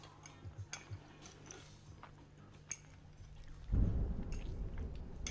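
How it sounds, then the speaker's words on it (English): A low, rolling rumble of distant thunder swells up midway and continues steadily to the end, following faint ticking sounds and quiet background noise. "Oh, that was a loud and long thunder."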